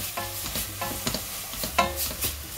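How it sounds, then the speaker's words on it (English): Onion, carrot and celery frying in a pan for spaghetti bolognese, stirred with a steady run of scraping strokes over a soft continuous sizzle, close and fairly quiet with no talk. "Come back to the pan, keep stirring."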